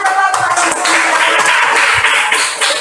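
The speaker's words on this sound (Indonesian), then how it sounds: "Tepuk tangan coba." Children in a classroom clap their hands together in a dense, continuous patter, loud and close, with a few stray voices mixed in.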